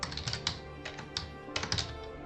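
Code is typed on a computer keyboard for a Python turtle race program: close, quiet clusters of rapid key clicks with brief pauses between bursts.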